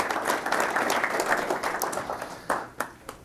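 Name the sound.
audience applause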